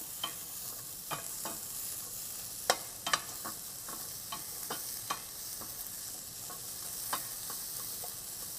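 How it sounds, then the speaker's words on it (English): A medium onion and a large spaghetti squash cook in a pan, a soft continuous sizzle punctuated by scattered sharp taps and scrapes of a spatula stirring, no voices. "So we have one medium onion and then 1 large spaghetti squash so far for this recipe. And we're just gonna cook this up"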